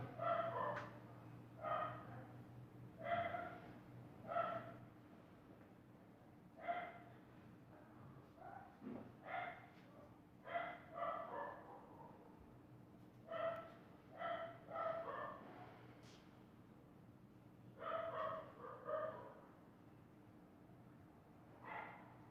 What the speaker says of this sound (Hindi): अभी तक भी कुत्ते का भौंकना बंद नहीं करा, क्या चंदी चढ़ गई कुत्तों को आज